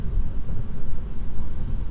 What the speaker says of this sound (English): You hear road noise, you hear some wind noise